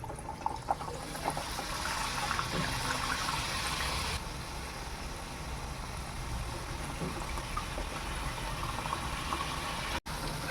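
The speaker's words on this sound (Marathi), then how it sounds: "मोतीचूरचे लाडू मिडियम गॅसवरती तळायचे आहेत फास्ट गॅसवर तळायचे नाही" Motichoor boondi batter frying in oil over a medium gas flame for ladoo, a continuous dense bubbling sizzle that softens slightly partway through, with no voices.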